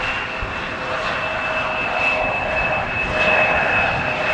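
A KLM Embraer jet touches down on runway 18R at Amsterdam Schiphol, its engines a steady, fairly loud whine and roar holding evenly throughout with no voices.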